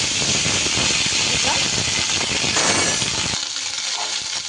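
Half a teaspoon of panch phoron, a five-spice mix, sizzles in hot mustard oil in a pan, a loud, dense, steady crackling hiss that eases slightly near the end.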